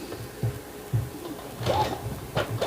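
A home sewing machine stitches forward and then back in short bursts of soft mechanical whirring and clicking, close by and fairly quiet, with no talk.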